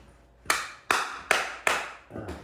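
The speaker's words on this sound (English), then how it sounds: "I just do a couple of little taps and I can feel the blade going underneath the tile" Four sharp, evenly spaced taps of a metal blade driven under a large floor tile, followed by a softer, duller fifth tap.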